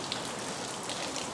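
Rain falls steadily on surfaces, a soft, continuous hiss of drops at low volume with no voices.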